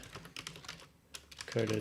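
Quick bursts of computer keyboard typing click close by during a music-production session, with short gaps between them and a voice briefly talking near the end.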